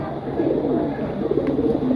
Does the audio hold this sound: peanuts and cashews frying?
no